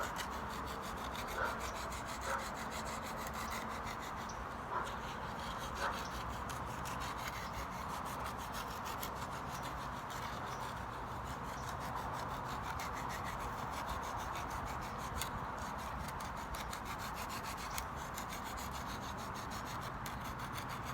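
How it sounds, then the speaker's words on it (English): A coarse, rough rock grinds the tip of a wooden spear, a steady close scraping and rubbing that carries on for the whole stretch without pause and without speech. "We're going to use a coarse looking rock, rough rock, to grind out the tip."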